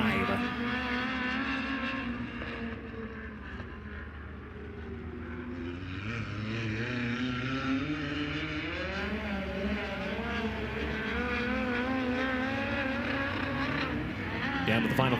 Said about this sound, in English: Down to the final few drivers to qualify on the Speedway now